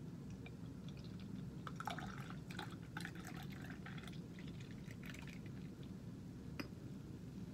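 Frostie root beer fizzing with carbonation in a glass, a steady close hiss of bubbles with scattered crackling pops and a few small drips, no talking.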